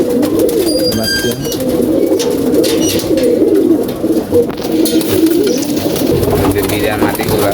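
Pigeons in a home loft, a mix of older birds and young ones, coo in a loud, continuous low rumble close at hand, with someone speaking over them.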